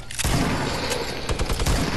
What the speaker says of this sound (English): Oh my god, he had a minigun. I heard it.